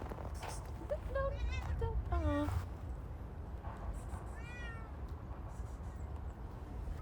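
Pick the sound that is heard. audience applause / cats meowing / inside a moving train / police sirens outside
cats meowing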